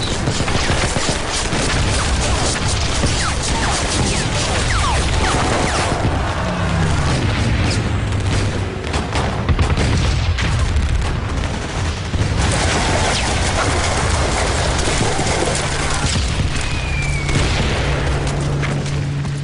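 A World War II battle against American troops on a beach: loud, continuous machine gun fire is mixed with rocket and mortar explosions and heavy booms, forming a dense, unbroken roar of combat.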